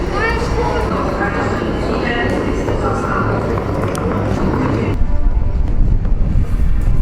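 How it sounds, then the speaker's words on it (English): Strong wind buffets the microphone with a steady low roar throughout, while people talk faintly underneath. "Very windy."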